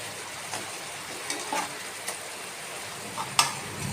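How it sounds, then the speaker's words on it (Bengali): Fried rui fish pieces go into a simmering spicy curry sauce, giving a soft, steady bubbling sizzle with a few light clinks of utensils against the pan. "ঝোলটা ফুটতে শুরু করে দিয়েছে, এবার মাছ ভাজাগুলো দিয়ে দেব।"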